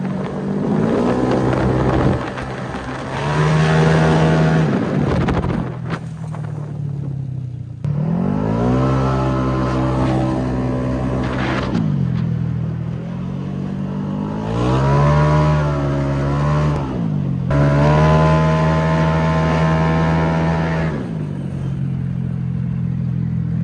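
A Vario scooter with modified electrics and a lithium battery revs up and down repeatedly, rising and falling in pitch with short pauses between throttle pulls, loud and close.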